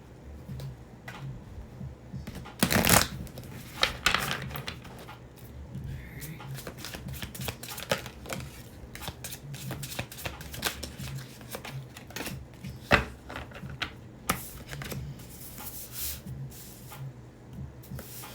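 Tarot cards are shuffled close up with a steady stream of soft slaps, flicks and rustles, a louder riffle early on and lighter taps continuing after.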